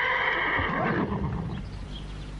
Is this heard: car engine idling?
no